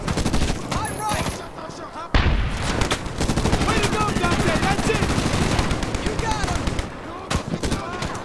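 An automatic weapon in Medal of Honor 2010 fires rapid bursts of gunfire, loud and dense, with a sharp blast near the start followed by sustained crackling fire and scattered distant shots, while a voice calls out over the battle.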